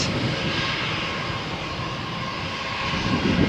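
A jet airliner on its takeoff roll from runway 13 at Malaga Airport on a stormy morning: a loud, steady engine roar with a broad rushing hiss that holds constant, then swells slightly toward the end.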